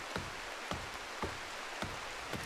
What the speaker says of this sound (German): Kann das sein, dass es jetzt schon seit 3 Tagen durchregnet?